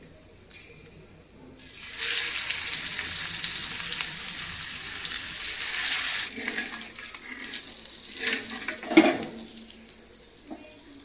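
Steady broadband sizzle of korameenu (snakehead) fish pieces frying in oil begins after a quiet start and holds for several seconds, then fades into scattered clinks and a sharp clatter near the end.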